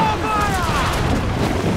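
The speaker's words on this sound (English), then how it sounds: "Doing mortars instead of his fucking broadside cannons." Mortar fire during a naval battle in Assassin's Creed IV: Black Flag, a loud, sustained rumbling boom filling the whole moment, with whistling shells descending in pitch over the blast.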